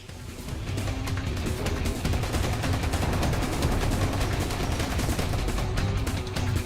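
Dense, nonstop gunfire and explosive bombing from a Resident Evil 6 battle, rapid bursts overlapping into a loud continuous barrage with heavy low rumble throughout.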